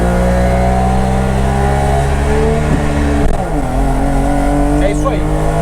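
A Puma GT sports car with a two-stroke engine revs hard, its loud buzzing drone holding steady, then dipping briefly as the revs shift before climbing again, heard close throughout.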